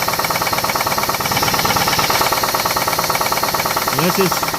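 Rapid, regular metallic knocking from a bad rod in a 2006 Pontiac G6 engine, close and steady, with a short voice cutting in briefly near the end.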